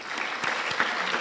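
Applause from guests at a school graduation ceremony, a dense, steady clapping that fills the room at close range with no voices over it.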